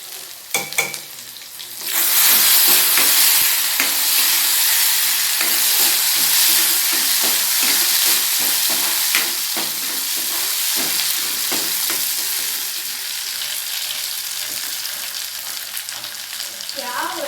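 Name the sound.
onion and tomato frying in a pan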